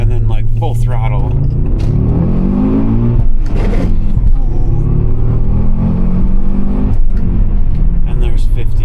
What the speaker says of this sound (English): It's first gear, slowly, and then like full throttle.